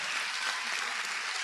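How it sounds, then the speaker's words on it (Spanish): A church congregation bursts into applause during a Spanish-language worship service, a brief, dense and even wash of many hands clapping with no voices heard over it. "Denle un aplauso al Señor Jesucristo"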